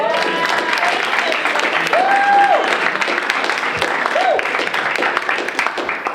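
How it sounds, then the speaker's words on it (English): An audience giving a full round of applause at a talk, with dense, continuous clapping that stays loud and even, while voices and cheering rise through the clapping. "can we have another round of applause?"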